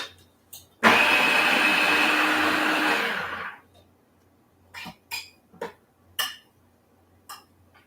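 A food processor chops a cheese ball mixture in one loud whirring burst of about three seconds, followed by scattered clinks and taps of a spoon against the bowl.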